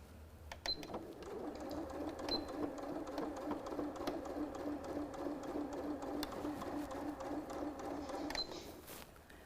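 A sewing machine runs steadily at close range, stitching in the ditch along a quilt's binding with a rapid, even rhythm of needle strokes and a few sharp clicks at the start and end.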